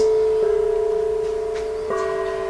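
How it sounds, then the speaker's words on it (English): A Chinese gong, one of several ma, chow and opera gongs of different pitches, rings with a sustained bright metallic tone, restruck once partway through so the shimmer swells again, close and loud. "Another ma gong, some chow gongs, different pitches, a couple of opera gongs."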